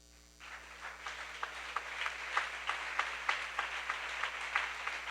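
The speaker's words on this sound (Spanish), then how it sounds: "Dele un aplauso al Señor" A church congregation claps rhythmically during a worship service, a fairly quiet, steady run of beat-like hand claps that starts abruptly and carries on with no talking over it.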